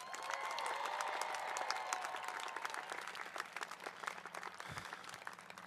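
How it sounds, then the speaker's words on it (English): A commencement crowd at a University of Northern Colorado spring ceremony claps for a graduate, sustained broad applause with some cheering early on, fairly quiet and distant. "Let's give a big round of applause for Jayla."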